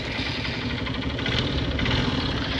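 A 2011 Honda Unicorn 150 motorcycle engine runs close by with a steady mid-pitched thrum and slight rise in revs, loud and continuous with no speech.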